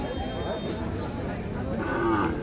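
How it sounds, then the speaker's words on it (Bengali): Cattle at a busy livestock market before Eid, lowing in a loud steady moo that runs through the whole stretch, close by over the general crowd murmur. "এখানে একটা গরু"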